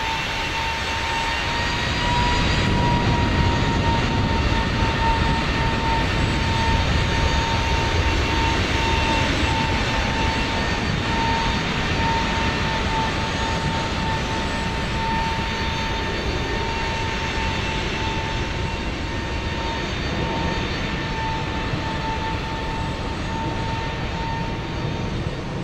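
Jet airliner engines roar steadily through a takeoff roll in the flight simulator MSFS 2024, a loud, sustained broadband rumble with a whining tone on top, continuous and close, with no talking.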